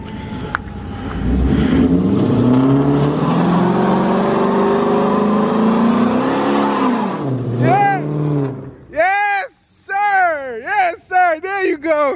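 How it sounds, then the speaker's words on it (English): A car doing a burnout with its tires smoking, the engine revving hard and droning loud for several seconds before dropping off, followed by excited voices talking loudly. "My boy smoked the tires out."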